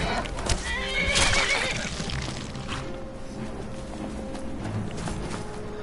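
A horse in the Skyrim video game gives a loud whinny, with clip-clop hoofbeats and faint thuds of combat nearby, and the sound trails off into quieter game ambience.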